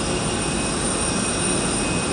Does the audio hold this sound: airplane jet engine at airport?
yes